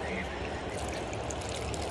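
Tea water being poured into a henna hair mixture with egg, a soft steady trickling stream over faint household background.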